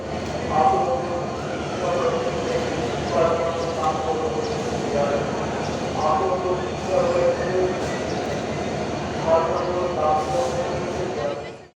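The Banalata Express stands at a busy railway station, its low rumble and rattling carriages continuous and close, with people talking throughout.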